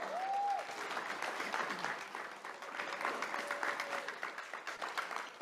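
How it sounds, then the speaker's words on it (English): An audience in a room gives a big round of applause for a giving moment at an evening event, with dense sustained clapping and a brief voice or whistle-like tone near the start. "Let's give yourselves a huge round of applause for this wonderful giving moment."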